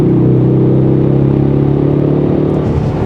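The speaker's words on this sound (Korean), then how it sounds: "마지막으로 트랙 배기가 켜졌거든요." Close, loud exhaust of a 2024 Ford Mustang EcoBoost 2.3 coupe in track mode at a steady low rumble with a throaty pulsing idle, continuous for the whole stretch with no voices.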